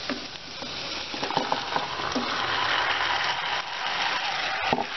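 Marinated chicken with salt, turmeric and chili sizzles and fries in a pan for butter chicken, a loud continuous crackle with occasional stirring scrapes, no voices.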